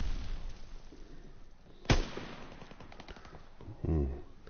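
Gunfire in a WWII shooter aboard a ship's deck: one sharp, loud shot cracks out near the middle, with a heavier burst near the end and steady battle noise between.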